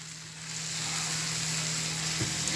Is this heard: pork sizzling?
yes